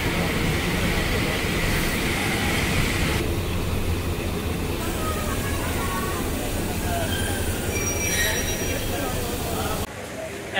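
Tista Express train pulling into Kamalapur railway station in Dhaka on a rainy evening journey from Jamalpur, a continuous loud rumble of wheels and carriages with a brief high squeal near the end.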